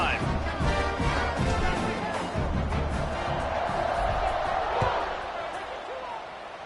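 Crowd at a college football stadium during a kickoff after a touchdown drive, a loud continuous roar with cheering and scattered thuds that slowly eases toward the end.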